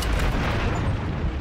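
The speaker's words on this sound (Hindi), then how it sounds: "अबे ग्रेनेड आ गया, भाग रहे बाप." A grenade blast in the video game Call of Duty MW III gives a loud, deep rumbling boom that stays heavy and sustained through the short moment.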